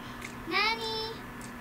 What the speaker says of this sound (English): I heard the cat. Where is the cat?